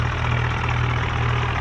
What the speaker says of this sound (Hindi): और गोपी अपने ट्रैक्टर को साइड में लगा देता है जिधर गोदाम रहता है अनाज का